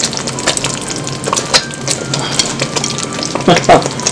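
Meatballs cook in a pan of pasta sauce seasoned with black pepper, onion powder, garlic powder and bay leaf, giving a close, steady sizzle with bubbling pops and occasional stirring clicks.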